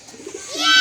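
A homing pigeon returning to its loft gives a soft, low coo up close, followed by a rising airy whoosh.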